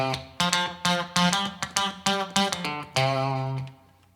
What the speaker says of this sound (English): the closer to the bridge you play, the tighter that sound is going to be